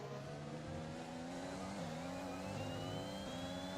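An F1 2021 race car in a video game accelerates with a continuous high engine whine, its pitch climbing steadily through the gear, fairly quiet and steady throughout.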